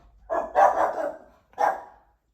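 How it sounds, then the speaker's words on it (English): Dogs barking outside an open window: two short, fairly close barks separated by a brief pause, with no talking. "I hear the doggy because I got the window open"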